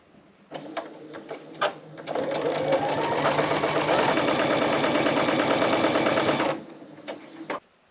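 Sewing machine stitching fabric strips together for a four-patch quilt, with a few short starts, then a steady run of about four seconds of fast rhythmic stitching up close that stops abruptly, followed by brief clicks.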